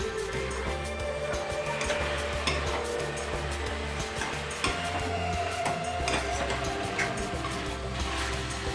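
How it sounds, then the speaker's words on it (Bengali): Chunks of radish sizzle and fry in a pan with ground coriander and cumin, stirred with scraping, clattering strokes against the pan over a steady hiss; no one speaks. "মূলোটাকে ভালো করে কষাবো।"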